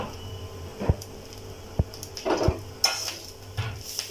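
Grated dry coconut stirred in a pan for a vajri masala: a few sharp spatula clacks against the pan and soft scraping, with only a faint sizzle between the strokes.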